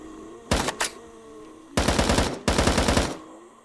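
Video game gunfire in VRChat, three loud rapid bursts of automatic shots close up, the first short and the last two longer, with no talking.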